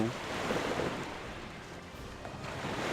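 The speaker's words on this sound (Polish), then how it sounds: "Już z góry przepraszam, że zagłusza mnie woda." Continuous wash of water from the Morrowind video game, a broad steady surf-like rush with a windy hiss that stays loud and even throughout, with no voices.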